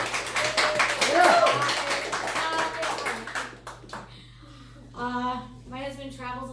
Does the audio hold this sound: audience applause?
yes